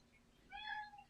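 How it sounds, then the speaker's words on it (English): A pet cat named Maple gives a single soft meow indoors, faint and brief, rising over quiet room tone. "that's Oh, it was Maple. Sorry. That's our cat."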